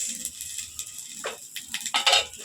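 Vermicelli and cashews fry in a little white oil in a pan, a light sizzle broken by soft scraping stirs and a few brighter rattling bursts, close and fairly quiet.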